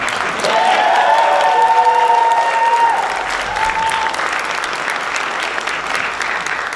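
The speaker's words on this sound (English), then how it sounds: "Please give a big round of applause to this e-council leader." A conference audience at an awards and closing ceremony claps loudly and continuously, the dense applause easing off slightly partway through and carrying on steadily to the end.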